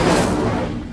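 A fire spell cast in the game Hogwarts Legacy erupts as one short, loud, full-bodied burst with a roaring, crackling whoosh that tapers off within a second.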